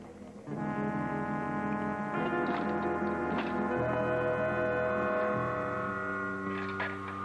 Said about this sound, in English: It's a foghorn. It just makes a very dreadful noise.